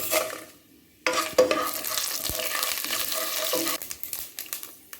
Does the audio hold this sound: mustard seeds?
yes